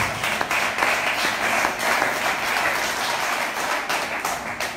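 A church congregation applauding during a French-language evening service, a steady wash of many hands clapping at even loudness for the whole stretch with no voices over it.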